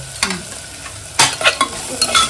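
Turmeric, chili masala and garam masala stirred into a hot pan for a paneer dish, with a crackling sizzle and several quick spoon scrapes against the pan in short bursts, near and loud, no voices.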